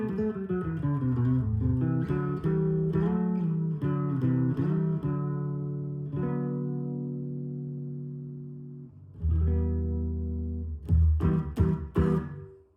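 Electric guitar played through a JHS Whitey Tighty compressor pedal for an acoustic-like feel: strummed chords ring on and sustain evenly, followed by a few bright, percussive strums near the end. No talking is heard.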